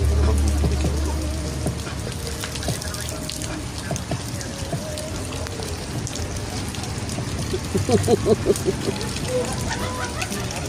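Heavy rain from Typhoon Uwan pours steadily onto nearby surfaces in a dense, close hiss with spattering drops, while people talk over it now and then.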